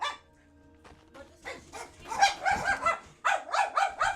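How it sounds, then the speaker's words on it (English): Several dogs bark together at close range in a steady, overlapping chorus, the yapping growing louder after a quiet start and pausing briefly before resuming. "I also need to have with Dee when we're not being barked at by the choir of dogs"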